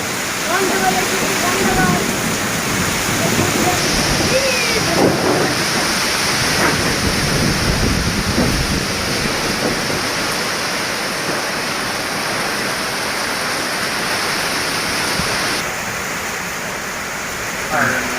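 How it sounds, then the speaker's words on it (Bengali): A loud, steady roar of heavy rain pouring down without a break, dense and close, easing slightly toward the end. "দেখুন বৃষ্টির কি অবস্থা একদম বন্ধ করে ফেলতেছে"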